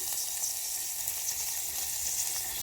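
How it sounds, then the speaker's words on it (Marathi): Wet cashew kernels frying in oil for a Konkani-style dish, giving a steady, close hiss of sizzling that holds evenly throughout with no talking. "सगळ्यात आधी तेलात गर फ्राय करू"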